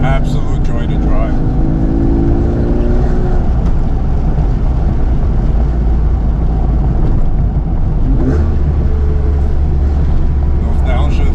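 Engine and exhaust of a 2003 Porsche 911 Carrera 4S with high-flow catalytic converters and an X-pipe rumble loudly from inside the car, the pitch shifting near the end, with talking over the engine throughout.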